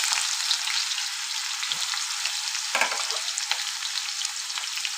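A cup of onions fries with curry leaves and dried red chillies in oil for chicken curry, giving a loud, steady sizzle with occasional stirring scrapes and pops and no voices.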